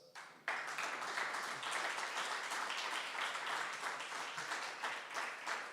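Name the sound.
round of applause at a policy session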